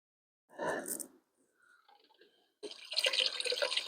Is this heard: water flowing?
yes